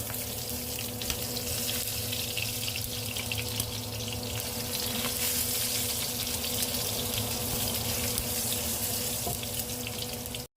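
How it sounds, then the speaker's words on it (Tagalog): Garlic fries in hot oil in a pan, giving a steady, loud, even sizzle with no talking. "Ngayon ay mainit na ang mantika guys, at pwede na natin ilagay itong ating bawang"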